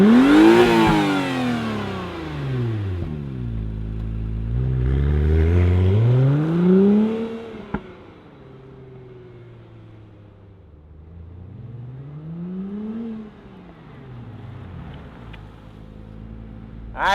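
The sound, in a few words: 2017 Acura NSX supercar engine starting and revving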